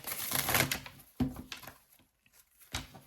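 Cards riffle and slap in quick bursts, a longer flurry followed by a few shorter shuffles, close and fairly quiet.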